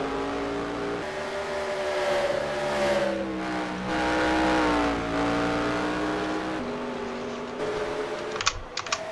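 Race cars on the Dover track in the NR2003 sim, their engines droning steadily with pitch rising and falling as they pass, a continuous loud whine with light clicking near the end.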